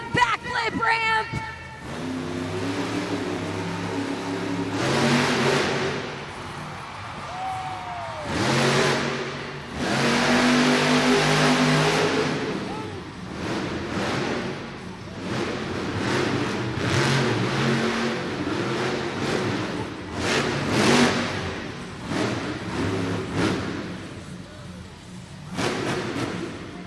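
A monster truck engine revs hard in an arena during a backflip ramp run at a Monster Jam event in Southaven, Mississippi, loud surging bursts under an announcer's voice and crowd noise.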